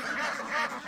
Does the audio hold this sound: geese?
yes